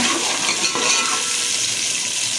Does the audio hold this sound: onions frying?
yes